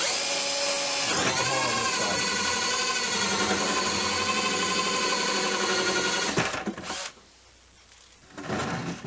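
Power drill boring holes into a plastic bucket while building a bucket sleeve, a loud steady whine running for about six seconds, then a short pause and a brief restart.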